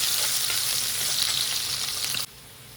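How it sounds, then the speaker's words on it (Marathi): Onion frying in a pan gives a loud, steady, hissing sizzle with light stirring scrapes, running unbroken and up close before cutting off abruptly near the end, with no talking. "त्याच्यामध्ये आपण कांदा टाकलेला आहे, कांदा फ्राय करून घेऊया."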